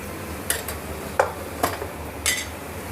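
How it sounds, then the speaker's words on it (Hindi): A spoon stirs spices such as coriander and red chili powder in a pan over a low gas flame, with a few sharp metallic scrapes and clinks spaced over a quiet background. "इसे बिल्कुल सिम गैस पर एक बार हम चला लेंगे मसालों को"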